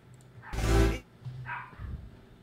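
A dog barks once, a loud close burst, then gives a quieter second yelp a moment later against a hushed room.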